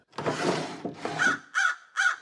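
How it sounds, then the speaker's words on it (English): A crow caws close by, a long harsh call followed by three shorter, evenly spaced caws, loud and alone against silence. "King Phillips pulled a crow from his desk."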